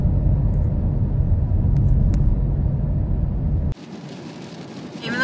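Rain drums steadily on a car driving through Utah near Salt Lake City, a loud close wash that cuts off abruptly to a quieter cabin hum with faint hiss.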